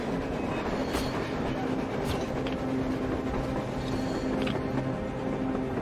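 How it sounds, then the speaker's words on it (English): Steady, loud rumble of a train moving across the surface in the Metro Exodus game, with a constant low drone and occasional sharp clanks over a dense noisy roar. "A train! A damn train on the surface!"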